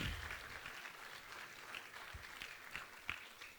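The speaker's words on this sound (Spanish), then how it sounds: "Dele un aplauso al Señor." Applause in a church during a general service, a fairly faint, steady spread of congregational clapping with a few sharper individual claps standing out throughout.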